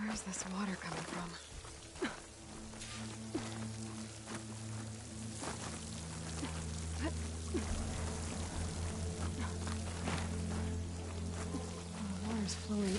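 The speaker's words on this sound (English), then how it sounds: "The water's flowing into the wall." Water in Horizon Forbidden West flows near a waterfall and pours into a rock wall: a steady, fairly faint rushing and splashing, with a low hum under it.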